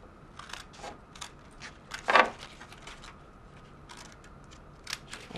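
Cardboard box being cut apart to make a seed box, a series of faint, short scraping and snipping strokes with one louder cut near the middle, no talk.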